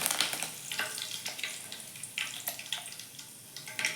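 Cumin and mustard seeds splutter in hot oil, a steady sizzle broken by frequent sharp pops and crackles, close and alone with no voices.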